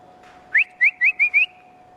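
A person whistles five short rising notes in quick succession to herd cattle, clear and fairly close, with quiet background and no talking.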